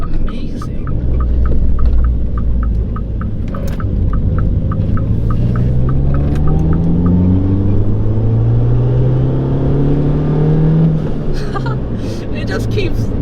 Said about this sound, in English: the car has a auto spring upgrade and a forged blow-off valve, so you get all the right turbo noises.